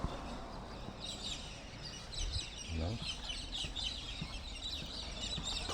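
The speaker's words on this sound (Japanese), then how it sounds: "鳥の声がすごいな。" Birds call and chickens cluck outdoors in Australia, a busy scatter of chirps and clucks spread across the scene at moderate distance, with other sounds mixed in beneath.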